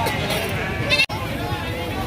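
Sheep bleat amid a noisy livestock market in Gangadhara, Telangana, with steady crowd babble and chatter throughout and a bleat cutting through near the middle, close and fairly loud.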